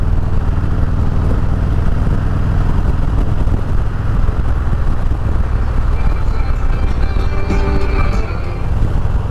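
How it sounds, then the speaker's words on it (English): A Can-Am Ryker 600 trike cruising at 65 mph, its engine droning steadily beneath constant, loud wind rush, with no break in the noise throughout. "we're going 65 right now, and that little Ryker is just pumping along with no problem"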